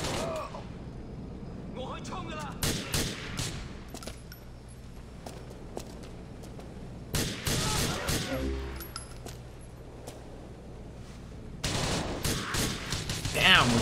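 Pistol gunfire in the video game Grand Theft Auto IV, with sharp shots in scattered clusters at moderate loudness and voices talking over the action.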